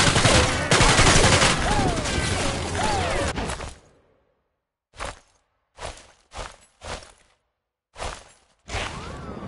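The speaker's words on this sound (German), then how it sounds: "Feindlicher Schuss!" Enemy gunfire rings out in Sniper Elite 3, first a long loud stretch of rapid shots, then a series of separate sharp reports with silent gaps between them.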